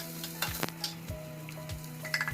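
Onions sizzling in hot oil, a steady close fry with a few stirring scrapes and faint clinks, no voices.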